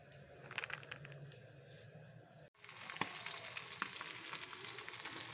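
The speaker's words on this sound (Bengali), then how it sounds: "এখানে এখন মাছ ভাজা হচ্ছে" Fish frying in a pan gives off a steady, fairly quiet crackling sizzle. It breaks for a moment, then returns fuller and denser with scattered pops, and no voices are heard.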